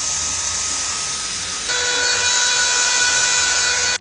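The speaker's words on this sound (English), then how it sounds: "Starting off with the hairdryer." A budget Dyson Airwrap dupe hair dryer blows with a steady, loud whoosh, stepping up to a higher, harsher setting partway through before cutting off.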